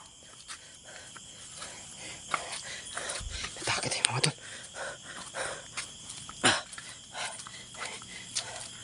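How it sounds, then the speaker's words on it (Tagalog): A dog barks and whimpers in short, scattered bursts at moderate distance, over a constant background chirp of crickets. "Hayop tong aso na to."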